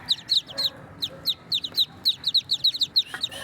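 Newly hatched chicks peep in quick, high, repeated chirps, a steady busy stream of small calls heard close up and fairly quiet, with no talking.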